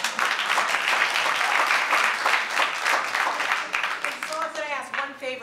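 An audience applauds at a Black History Month tribute to nurses, the clapping loud and dense before thinning out toward the end as a voice starts speaking.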